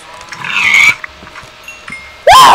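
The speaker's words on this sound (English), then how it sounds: "Hit the cow jackpot." Cows in a farming survival video game moo loudly and close by, with one drawn-out call, a quiet pause, then a second abrupt, strong moo at the end.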